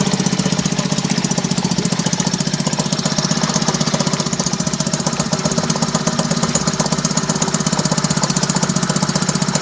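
A 1955 Elgin 2.5 hp outboard motor runs loud and close, four-stroking with a rapid, steady, uneven knocking beat that continues throughout with no voices.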